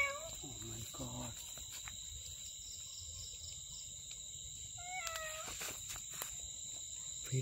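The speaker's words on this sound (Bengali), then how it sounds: "বিড়ালের ডাক শোনা যাচ্ছে।" A cat meows in a jungle at night, with a few short, faint-to-moderate calls in the first second and again around five seconds, over a steady high drone of crickets and insects.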